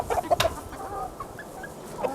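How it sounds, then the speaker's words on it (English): Young Chantecler chickens, four hens and a rooster at 19 weeks old, cluck and chirp softly nearby in short scattered calls over a quiet background. "I'm now convinced that I have 4 pullets and 1 cockerel, so 4 hens and one rooster."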